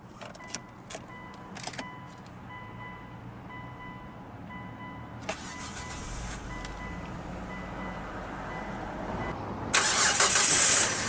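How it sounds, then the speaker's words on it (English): A few clicks and a short whir, then a 2005 Hyundai Tucson GLS 2WD engine cranks and catches into a steady idle, with a louder rush near the end. "let's go ahead and start the engine"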